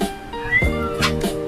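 A cat meows several times at close range, each call rising and falling in pitch, with a person speaking softly between and over the calls.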